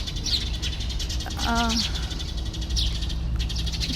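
A small bird chirps in quick, high bursts scattered through the moment, moderately near, under a person talking, with a brief meow-like call in the middle.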